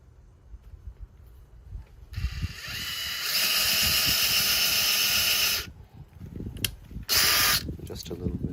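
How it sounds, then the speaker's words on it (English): A power drill bores holes through a sticker template for a Lindo dual camera install, whirring in one sustained close burst of about two and a half seconds, then a second brief burst, with handling noise between. "then I'm gonna just go ahead and drill"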